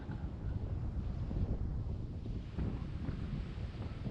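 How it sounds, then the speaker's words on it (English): Hurricane Erin swells break on a Long Island beach, with a steady low rumbling roar of surf and strong wind buffeting the microphone and no clear separate crashes. "And the waves, they just stack and stack and stack."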